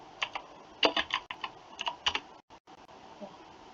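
Fingers type on a computer keyboard in quick, uneven bursts of close, crisp key clicks, followed by a short pause and a few more taps. No one speaks.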